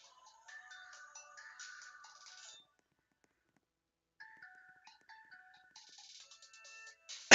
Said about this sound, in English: I'm getting a phone call from someone that I need to talk to here in a second